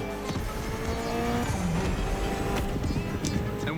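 Car driving in the racing video game The Crew Motorfest, with a steady loud engine drone, some tire squeal and road noise, and no voices.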